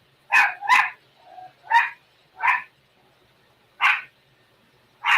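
A dog barks six times in short, spaced bursts with a soft whine between them, loud and close over quiet surroundings.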